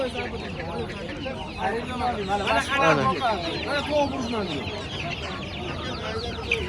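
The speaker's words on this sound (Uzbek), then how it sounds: "yana jo'jalar bor ekan, burlar jo'jalar bor ekan" Chickens and chicks at a poultry market in Quva cluck and cheep continuously, a dense, busy flock sound close by with scattered calls rising over a steady background.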